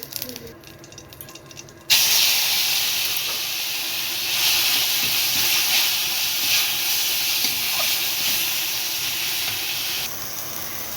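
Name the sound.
whole cumin seeds sizzling in hot white oil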